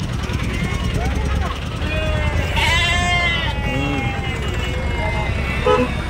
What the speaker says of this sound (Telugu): గొర్రెలన్నీ వచ్చినాయి